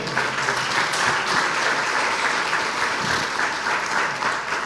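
A church congregation applauds during a sermon, dense sustained clapping from a large crowd filling the room at steady loudness for the whole stretch.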